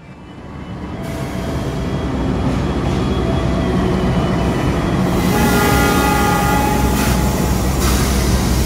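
Malabar passenger train at Kroya station rumbling loudly past in a continuous roar, with a sustained horn tone partway through and rail noise throughout.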